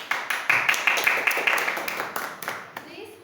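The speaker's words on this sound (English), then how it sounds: "Please give a big applause" Applause from a small audience at a Toastmasters club meeting, a moderate patter of hands with individual claps audible, steady then thinning toward the end.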